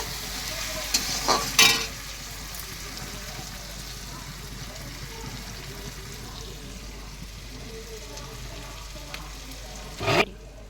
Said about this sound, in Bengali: টমেটো, কাঁচা লঙ্কা, পেঁয়াজ ভাজা হচ্ছে